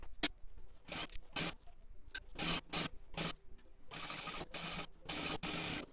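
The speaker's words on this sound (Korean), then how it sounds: "그런 다음에 이제 여기를 박음질을 할게요." A sewing machine stitches pajama fabric, sewing parallel lines 1 cm apart on the back of a pocket. The stitching comes in several short, loud bursts with brief pauses between them, close to the microphone and with no talk.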